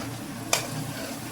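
Spices stirred into paneer masala in a pan make a soft, steady sizzle, with a single sharp scrape of a spoon in the middle and no voices.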